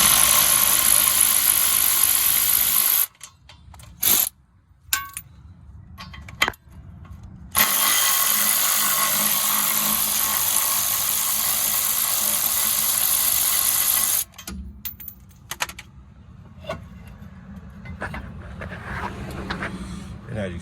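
Tools work on the bracket bolts of a car wheel hub assembly, loud steady mechanical whirring broken by abrupt stops and short bursts, with softer clanks and handling noises near the end.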